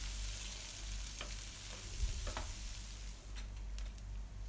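Onions sauté with a pinch of salt in a pan for rava kichadi, a soft, steady sizzle with a few light scraping stirs and clicks, close but fairly quiet, no talking.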